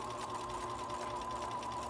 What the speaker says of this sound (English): I backstitch and then I go ahead and stitch off the end